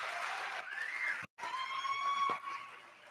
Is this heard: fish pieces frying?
no